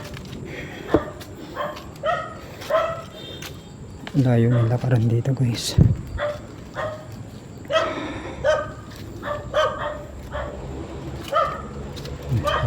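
A dog barks at a distance outdoors on a windy night in Tagaytay, Cavite, with a few short bursts heard under frequent nearby talking and footsteps.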